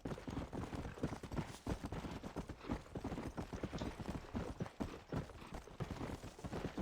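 Horse hooves gallop in a fast, steady clip-clop through Red Dead Redemption: Undead Nightmare, loud and continuous with no talk over them.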